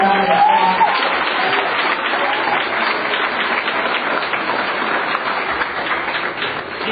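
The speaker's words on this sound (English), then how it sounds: "Let's give her a round of applause." An audience applauds a state representative who has stood to be recognized, steady dense clapping filling the hall for several seconds at close, even volume.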